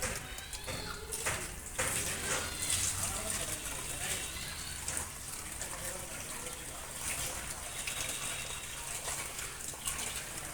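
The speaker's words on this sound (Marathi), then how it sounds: "आता ही पाणी मी काढून घेते" Soaking water is drained off finger millet, a close, continuous gushing and splashing pour that runs steadily throughout with brief louder sloshes.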